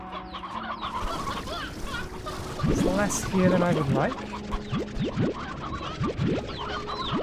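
Painted hens in the Slime Rancher 2 video game clucking and squawking in short bursts, several birds close by, while someone talks over them.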